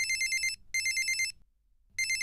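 An electronic phone ringtone trills in two quick bursts, pauses briefly, then starts a third burst, sounding clear over a faint low hum.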